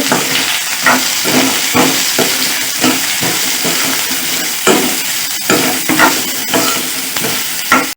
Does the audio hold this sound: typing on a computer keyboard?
no